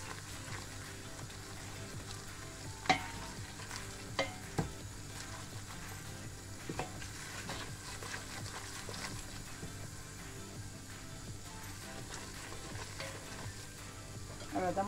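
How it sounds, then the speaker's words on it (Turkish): Flour stir-roasted in a pan for a baked pasta sauce, a soft continuous sizzle with scraping spoon strokes and occasional light knocks against the pan, steady and close. "Şimdi bunu iyice kokusu çıkana kadar şöyle kavuruyorum."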